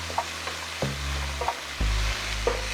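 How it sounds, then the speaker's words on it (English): Garlic and vegetables sizzle and fry in a pan, with stirring scrapes recurring every second or so over a steady low hiss, close and fairly loud, no voices. "I like to add the garlic on top of the vegetables."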